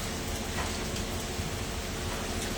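Rain falls in Tapa Mandi, Punjab, a dense, even hiss that holds steady from start to finish with no talk.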